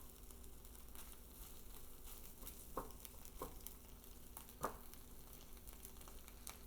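Chorizo browning and crisping in a dry pan with no added oil, giving a steady quiet sizzle with a few sharper stirring scrapes and pops, close and alone.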